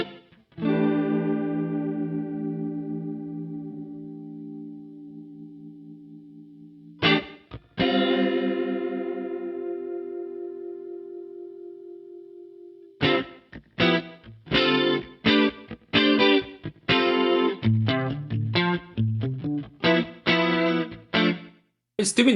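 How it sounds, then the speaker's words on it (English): Meris LVX delay pedal set to a chorus effect with the depth raised, processing guitar: sustained shimmering chords ring out and decay, then a run of quick plucked notes, all close and clear with no talking. "So let's just take a listen to the chorus."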